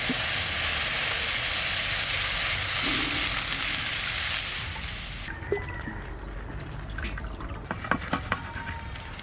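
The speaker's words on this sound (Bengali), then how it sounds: "এবার জল দিয়ে দেবো।" Water poured onto sizzling fried ginger-garlic spice paste for a Sundarban river tangra fish curry gives a loud, hissing sizzle that fades after a few seconds into quieter bubbling with scattered pops and clicks.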